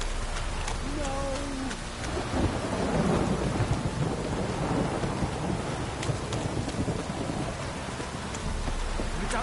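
Rain pours steadily in The Witcher 3 while rolling thunder rumbles low and close; a brief voice is heard at the start before the downpour fills the rest evenly.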